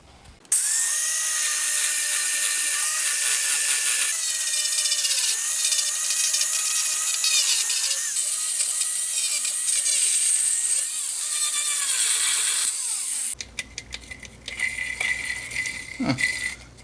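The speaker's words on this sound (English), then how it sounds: "gonna use the flap disc, clean this up," An angle grinder fitted with a flap disc cleans up metal on a car mount, a loud, sustained whine with shifting pitch as it bites the workpiece. It cuts off abruptly, followed by clattering handling noises.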